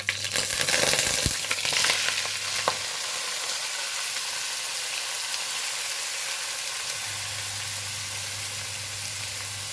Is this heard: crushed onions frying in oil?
yes